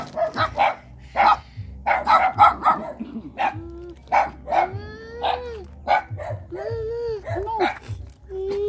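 Several sharp dog barks and yips in irregular bursts on a rural farm outing, close and loud, with a few whimpering tones between them and some talking mixed in.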